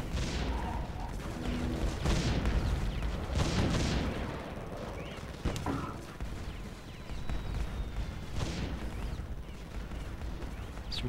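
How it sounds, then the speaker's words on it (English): Cannon towers fire repeatedly in the Defense Grid tower-defense game, with booming shots and bursts of gunfire in irregular clusters over a continuous low rumble of battle sounds. "Put another cannon here."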